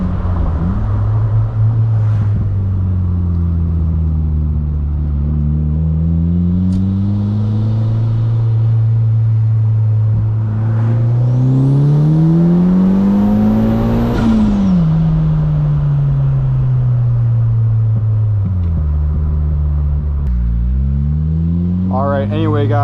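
A turbocharged 240 WHP Mazda NB Miata with a straight pipe exhaust, heard from inside the car as it drives, with a steady loud engine drone that rises in pitch under acceleration and falls back as it shifts and eases off.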